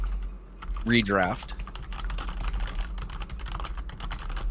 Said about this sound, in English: I'm waiting for the full typing because this is suspenseful